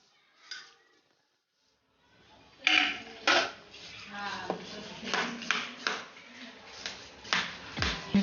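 A spoon stirs grated coconut, dry ginger powder and fennel seeds into a pot of wheat kheer, making a series of metallic clinks and scrapes against the vessel. A few quiet knocks come first, then steady stirring.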